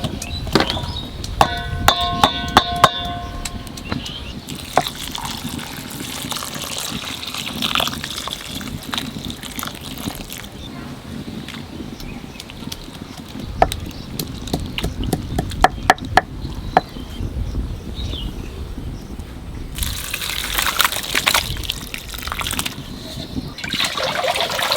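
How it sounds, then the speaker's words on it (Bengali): Boiled banana flower rinsed under running water: a steady trickle and splash with handling clatter, some sharp knocks partway through and a stronger gush near the end. "মোচা সিদ্ধ হয়ে গেছে, এখানে একটু ধুয়ে নেব।"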